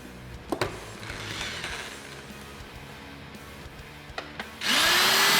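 A hand drill bores into wood while a solid-body electric guitar neck pocket is being built, whirring steadily at moderate level with a few sharp knocks, then a louder rising whine surges in near the end.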